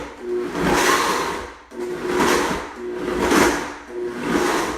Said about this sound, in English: the ice cubes are mixing and it's getting to the point, this is a really good blender, so it's almost already crushed